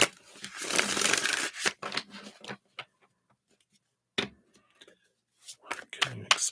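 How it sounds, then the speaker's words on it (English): A deck of reading cards is shuffled by hand, giving a burst of dense riffling and flapping followed by scattered soft taps and card handling, heard close, with a little quiet talk in between. "Let me shuffle these up again here."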